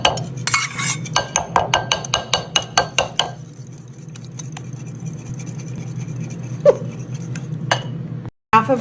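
A whisk or fork beats 10 eggs, milk and sour cream in a bowl, a quick run of rhythmic clinking strikes against the bowl for a few seconds, then quieter background hum with an occasional knock.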